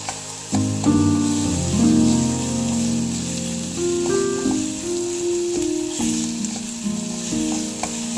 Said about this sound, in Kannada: ಫುಲ್ ಎಲ್ಲ ಈರುಳ್ಳಿ ಎಲ್ಲ ಫ್ರೈ ಆಗ್ತಾ ಬಂತು.